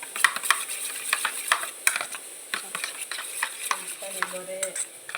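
Egg mixture for bread omelette is stirred in a bowl, with repeated quick scraping and clinking strokes in an uneven rhythm, close and fairly loud, with no talking.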